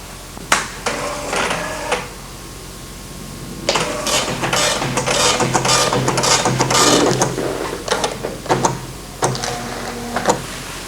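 An MSX home computer's printer runs off a report in bursts of rapid mechanical chattering and clicking, close and fairly loud, with short pauses and carriage clunks between lines.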